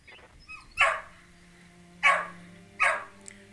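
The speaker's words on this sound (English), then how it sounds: "sorry, my dog's barking." A pet dog barks indoors, three sharp separate barks spaced about a second apart, fairly faint and close, with a quiet electronic hum underneath.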